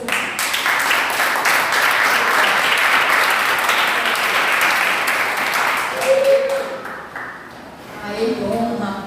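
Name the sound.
church congregation applauding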